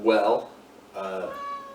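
Domestic cats meow indoors, giving a loud, close meow followed by a second, longer and slightly quieter meow, with no other sounds around them.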